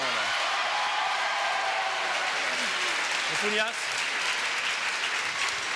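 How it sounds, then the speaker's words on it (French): Studio audience applause for Philippe on a French television show, a steady broadband wash of clapping that runs the whole stretch with a voice briefly over it. "Bon, il y a des applaudissements."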